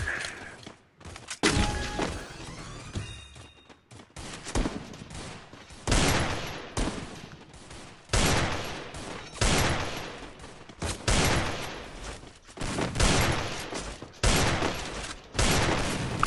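Gunfire in the Free Fire video game comes in repeated loud bursts of rapid automatic shots separated by short pauses, with a few heavy thuds and crashes mixed in.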